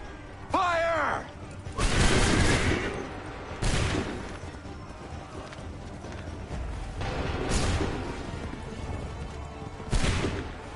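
Musket volleys fired on command in Assassin's Creed III, a few loud crashing bursts spaced a couple of seconds apart after a shouted order, with battlefield clatter and voices between them.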